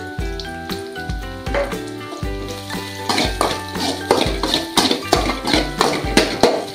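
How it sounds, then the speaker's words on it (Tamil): Carrot and Maggi ingredients sauté in plenty of oil in a pan, giving a steady close sizzle broken by repeated clanks and scrapes of stirring against the pan, with music or tones running beneath. "நல்லா வதக்க விட்டுருங்க, நல்லா பொன்னிறமாக வதக்கணும்."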